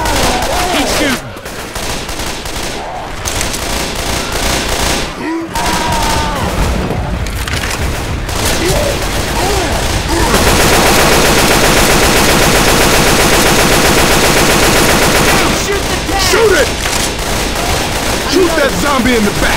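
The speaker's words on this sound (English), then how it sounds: "Keep shooting!" Rapid bursts of automatic gunfire from survivors firing on zombies and a Tank in the shooter Left 4 Dead 2, loud and nearly continuous, with shouted voices mixed in and a dense sustained stretch of shooting in the middle.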